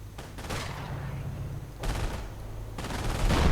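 Sniper fire in a wartime strategy video game comes in sharp, distant cracks with scattered gunfire bursts and rumbling battle noise, fairly faint in the mix.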